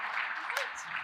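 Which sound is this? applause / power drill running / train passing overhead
applause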